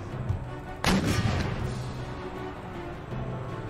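Artillery gun crews firing in the video game Empire Total War: one sharp booming cannon shot near the start, rolling off over a constant low battle rumble.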